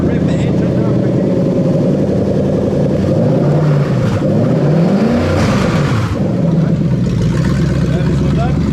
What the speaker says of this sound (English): We're going to rev the engine now quickly.